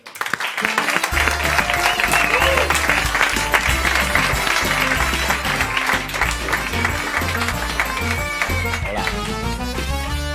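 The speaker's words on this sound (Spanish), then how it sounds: "Así que un aplauso para Pepe Golubi." Applause for a guest on a karaoke show plays over loud music with a strong bass beat, the clapping a dense steady wash mixed under the song for about ten seconds.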